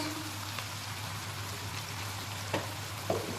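Spices sizzle faintly in oil as they are stirred into a chicken and ridge gourd curry, a steady soft frying hiss with a low hum beneath and a couple of brief clinks of the spoon.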